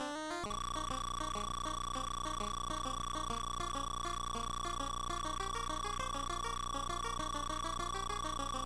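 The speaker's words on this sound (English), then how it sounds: "That's the sound of pizza being delivered super fast." Electronic sound effect from a 1997-style plug-and-play video game as a pizza is delivered, a continuous synthetic tone with rapid repeating chirps and blips in a fast looping pattern, loud and unbroken.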